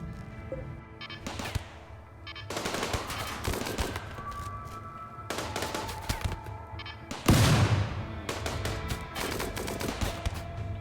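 Turrets in RimWorld fire in repeated loud bursts of gunfire, some stuttering like a machine gun, close and continuous for about eleven seconds, with one heavier blast partway through.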